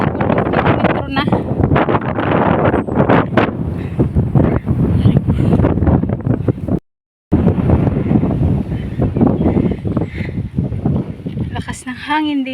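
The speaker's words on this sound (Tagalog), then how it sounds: "Lakas ng hangin dito." Strong wind buffets the microphone in heavy gusts throughout at a high lookout near a beach in the Netherlands, with people talking over the roar.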